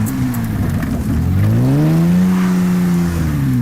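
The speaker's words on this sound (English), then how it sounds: "entering a long sweeper while applying throttle" A Lamborghini replica car accelerates in second gear on a snowy ice track, its engine close and loud, the revs dipping briefly and then climbing steadily into a long sweeping corner.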